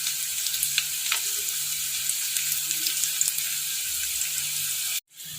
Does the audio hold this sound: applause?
no